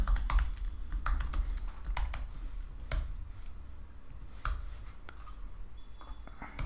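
Steady typing of code on a computer keyboard, close and clear, with quick irregular key clicks and occasional heavier strokes, no talking.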